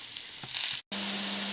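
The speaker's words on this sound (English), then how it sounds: "I'm just going to let that fry for a few minutes until it's reduced." Food frying in a small pan: a close, steady hiss of sizzling that cuts out for a split second, then resumes with a low hum beneath.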